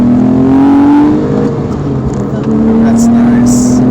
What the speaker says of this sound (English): Engine has a nice growl.